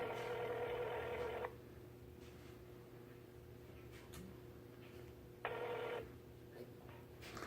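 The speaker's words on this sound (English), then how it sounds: "we just tried calling him 3 times, and it's a no-go" An unanswered phone call to a McDonald's rings on the line. Two electronic ring bursts, each about a second and a half long, are separated by several seconds of quiet line hiss.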